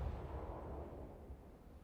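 Warship guns firing from a smoke cloud in a naval battle video game: a deep, rumbling boom that swells at the start and slowly fades, fairly faint and with no talking.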